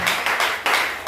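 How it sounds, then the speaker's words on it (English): A crowd claps in several bursts, loud and close, with brief dips between rounds of applause. "Clap for the gospel."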